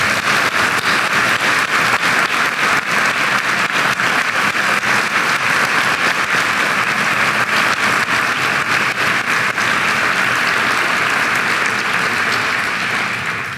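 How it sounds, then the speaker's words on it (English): A graduation audience at Greensboro Day School gives faculty and staff a long, loud round of applause, a dense unbroken wash of many hands that holds steady for over thirteen seconds before easing slightly at the end. "can we please give our faculty staff a huge round of applause?"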